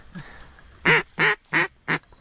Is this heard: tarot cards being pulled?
no